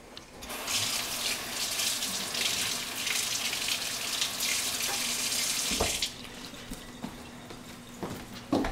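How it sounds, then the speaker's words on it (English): A sink tap runs steadily for several seconds while hands are washed beneath it, a close hissing water stream that cuts off partway, followed by a few faint clicks and splashes. "I'll wash my hands."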